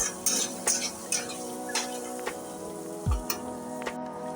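Chopped green chili, chili powder and tomato sautéing in a pan, a spatula tapping and scraping in short irregular strokes over a gentle continuous sizzle, nearby and without talk.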